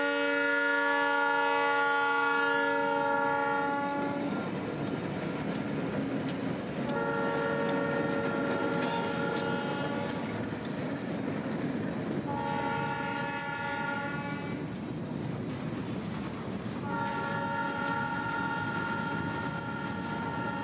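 An empty CSX freight train pulled by two GP38 locomotives works hard, its loud multi-tone horn sounding in three long blasts over a steady rumble of engines and rolling cars, close by.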